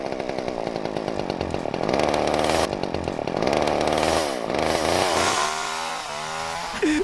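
A chainsaw runs loud and close, its engine buzzing steadily and revving up and down, with a few brief drops in pitch near the end.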